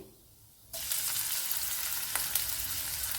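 Cumin seeds, garlic cloves and small pieces of ginger hit hot oil in a pan with a sudden loud sizzle, then keep up a steady close crackling fry with no talk.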